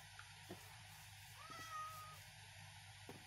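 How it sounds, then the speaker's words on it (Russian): A cat meows in the video game Minecraft 1.16.5, in a village, with a couple of short game calls rising over a steady ambient background; no one talks. "Кошка, кошка, иди сюда."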